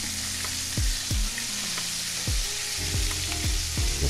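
Flour-coated sous vide ribs fry in hot oil with a steady, close sizzle, broken by several low thumps and bumps as the pieces are moved around the pan.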